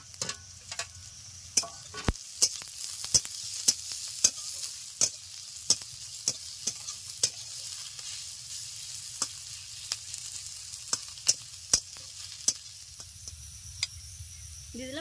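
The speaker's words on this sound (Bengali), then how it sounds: "এখন দিয়ে দিচ্ছি আদা কুচি আর দিয়ে দিচ্ছি রসুন ও কাঁচা লঙ্কা কুচি।" Chopped ginger, garlic and green chili fry in a hot pan with a continuous sizzle, broken by sharp, regular utensil taps and scrapes from stirring.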